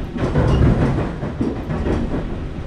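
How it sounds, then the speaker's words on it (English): A train rumbles past in a psychological horror video game, a loud, close, continuous rolling roar with clattering wheels and no talk. "Is this a real train?"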